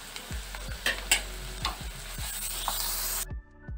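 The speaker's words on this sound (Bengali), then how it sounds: "আদা রসুন হালকা করে ভেজে নিয়েছি" Ginger-garlic paste frying in a pan for masoor dal tadka gives a steady sizzle that runs under repeated spatula scrapes and knocks, then stops suddenly near the end.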